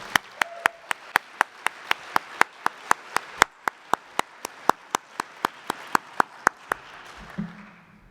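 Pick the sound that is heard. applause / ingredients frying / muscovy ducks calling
applause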